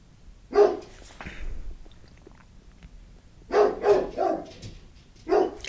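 A dog barks near the microphone: one bark, a pause, then a quick run of three barks and a final bark.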